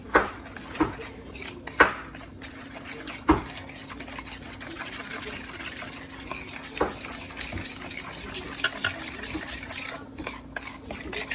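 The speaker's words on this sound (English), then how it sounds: "And now we will mix." Ramen stock being stirred into a thick paste in a bowl, with soft scraping and a few sharp clinks of the utensil against the side over a steady low hum.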